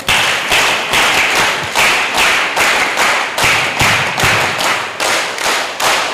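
Audience applause at a closing ceremony of a de-addiction camp's family day, loud rhythmic group clapping swelling in regular waves and filling the hall from start to finish, with no voices over it.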